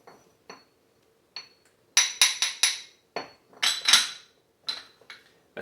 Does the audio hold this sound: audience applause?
no